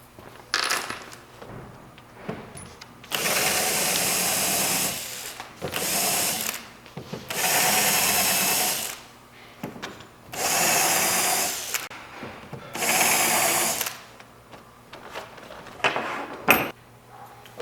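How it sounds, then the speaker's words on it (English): A power drill countersinks screw holes in a Lionel FasTrack model railroad module, with five loud whirring bursts of about one to two seconds each. Short pauses and small clicks and handling knocks separate the bursts. "One thing we need to do before we do that is countersink these holes."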